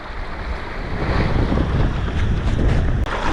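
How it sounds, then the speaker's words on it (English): A sailboat rides through ocean waves in the wind, with a continuous loud rush of wind and water and a faint rumbling undertone throughout, without any voices. "getting bounced around a little bit by the waves"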